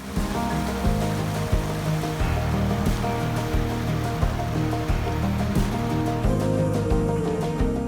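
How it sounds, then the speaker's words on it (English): Water of a glacial river in Fiordland, New Zealand rushes loudly and continuously close by, a dense, steady roar with no voices. "refill our water bottles with the fresh water of a glacial river"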